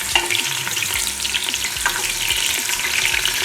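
Onions sizzle and crackle steadily in hot oil for an Owambe-style gizzard and plantain dish, a close, continuous frying hiss with light stirring and no talk.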